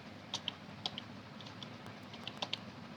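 Faint, scattered clicks of a computer keyboard as a code is typed in, a few keystrokes in short bursts over a low steady background hum, with no voices.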